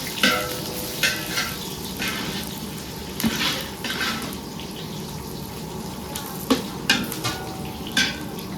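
Bay leaf stirred into rice in a large pot, giving a steady sizzling bed of sound punctuated by intermittent scraping and clanking strokes of a utensil against the metal.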